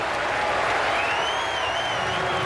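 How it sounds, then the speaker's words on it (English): A packed ballpark crowd at a 2004 St. Louis Cardinals home game against the Cincinnati Reds applauds a strikeout in the eighth inning, steady and loud throughout, with a faint whistle above the clapping. "The fans applauding the swing miss by Ringhausen."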